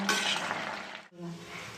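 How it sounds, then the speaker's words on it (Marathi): Bhogi mixed vegetable curry sizzles in a hot pan while a spoon stirs it to reduce the water, with a brief pause before the scraping and frying resume. "हलवून बघूया आणि थोडंसं पाणी आटवून घेऊया."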